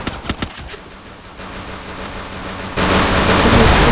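Gunfire in a shooter video game: a few quick sharp shots at the start, then a steady loud rushing noise, close and with no talk.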